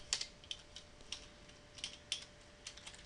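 Faint, sparse clicks from a computer keyboard being typed on at an uneven, unhurried pace over a low steady hum, with no speech.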